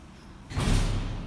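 A door at a university building in Bochum swings open with a sudden thud and a rush of air and noise, close and brief.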